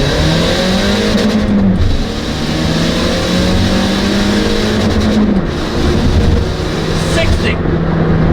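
A Scion tC accelerates hard from a standing start, its engine climbing through the gears with rising whines broken by brief dips at each shift, loud and close from inside the cabin, with voices talking over it.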